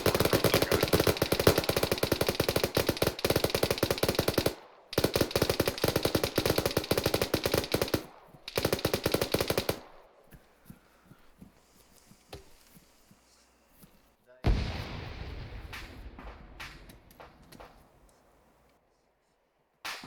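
Sustained bursts of automatic gunfire from active shooters inside a compound to the east during a military field training exercise, loud and rapid for about ten seconds, then sparse distant shots and a final sharp burst fading out.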